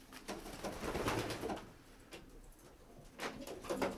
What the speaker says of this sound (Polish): O, tu jest drugi gołąbek